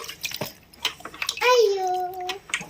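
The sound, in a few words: water poured while bathing a child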